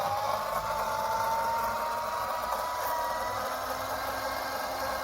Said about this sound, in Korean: 오일 펌프 동작시킵니다